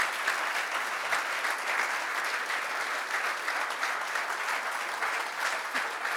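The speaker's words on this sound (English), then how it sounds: "Can we please give them all a round of applause?" An audience claps at the closing of the PMI Africa Conference 2019, a steady, even patter of many hands that holds at moderate volume throughout, with faint murmurs underneath.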